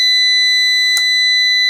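A Fronus 6kW MPPT inverter, under repair after a blast, gives off a steady, loud, high-pitched electronic tone, broken once by a short click partway through.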